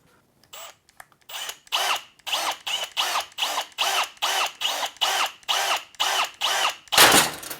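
A power drill bores out a rivet in a PC case in a run of about fifteen short, even bursts, each a whining spin separated by brief pauses, close and loud, ending in one longer, harsher grind.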